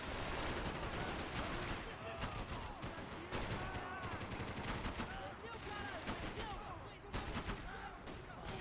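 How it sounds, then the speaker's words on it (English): Heavy gunfire in the video game Max Payne 3: rapid bursts of automatic fire and sharp shots that keep cracking almost without pause, loud and dense, with voices mixed in among the shooting. "I can't concentrate with bullets whizzing past my head."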